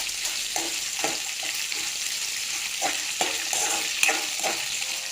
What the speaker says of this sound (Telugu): పచ్చిమిర్చి వేగుతున్నా ఉన్నాయండి.